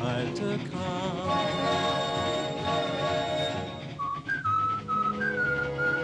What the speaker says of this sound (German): pfeifen Sie nur weiter